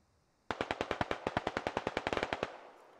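A DShK heavy machine gun mounted on a technical fires one sustained burst of about twenty evenly spaced, punchy rounds in Squad. It comes in abruptly, then trails off into a short echoing tail.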